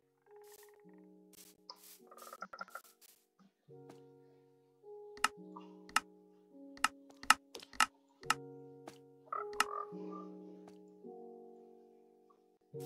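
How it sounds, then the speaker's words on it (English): A frog in a Minecraft survival house croaks in soft low tones among sparse synthesized music notes and sharp clicks from block placing, all fairly quiet with no talk. "There's now a frog in my house."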